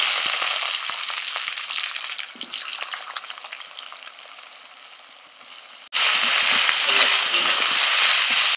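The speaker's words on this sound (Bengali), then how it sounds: "ফোড়নটা হয়ে গেছে, দিচ্ছি পেঁয়াজ কুচি" Chopped onion hits hot mustard oil in a wok, giving a loud, steady sizzle that fades slightly, then jumps sharply louder as more goes in, with scattered crackles and some stirring throughout.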